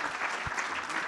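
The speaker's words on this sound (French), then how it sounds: "Je vous demande d'applaudir sous un déluge d'applaudissements nos conférenciers" An audience at a conference claps in a short burst of dense, steady applause that fills the whole moment.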